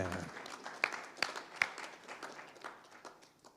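A small press conference audience at East vs West 8 claps for an introduced competitor, a thin scattering of distinct, fairly faint hand claps that quickly tapers off.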